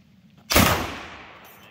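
A single loud muzzle-loading rifle shot fired outdoors at a range on Black Mountain, a sharp blast followed by a long decaying boom with no talk over it.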